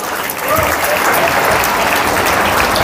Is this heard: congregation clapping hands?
yes